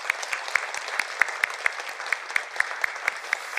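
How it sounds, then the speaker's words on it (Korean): A church congregation applauds to bless a long-serving deaconess after cancer treatment, with steady rhythmic clapping heard from a moderate distance and no voices over it. "네, 우리 박수로 축복합시다."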